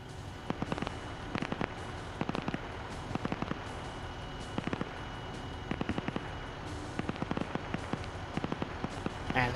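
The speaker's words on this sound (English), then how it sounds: "And they're firing down at Seal again." Gunfire in a Soviet Afghan War era multiplayer combat match, with sharp shots cracking in scattered bursts and clusters, some rapid, over a soft background hiss.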